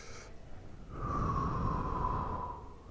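A person exhales slowly during a seated neck stretch, a steady, close breath lasting about two seconds after a short sniff-like intake, with no talking.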